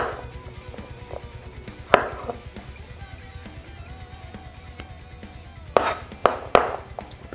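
A kitchen knife finely chops about four garlic cloves on a cutting board, a fast even run of close taps with a few louder, sharper knocks near the end.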